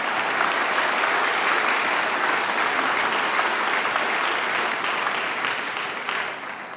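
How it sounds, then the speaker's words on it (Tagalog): A Tagalog church congregation breaks into loud, sustained applause, dense clapping that fills the room steadily for several seconds, then begins to taper off. "bukas lakasan yung palakpak niyo."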